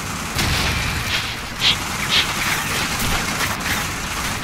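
Gunfire and muffled explosions from Call of Duty 4: Modern Warfare rumble steadily. A few sharper shots stand out over the dense, noisy battle din.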